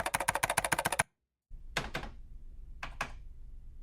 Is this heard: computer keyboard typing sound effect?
yes